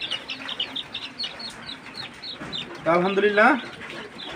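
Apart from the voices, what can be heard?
Silkie chicken chicks clucking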